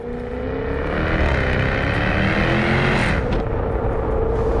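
2017 Jaguar F-Type R driven hard, loud close engine and exhaust roar building over a few seconds, with a sharp crackling burst near the end as the throttle lifts.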